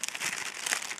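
A small gift bag being opened gives a short burst of quiet, close paper-and-plastic crinkling, irregular rustles over about a second.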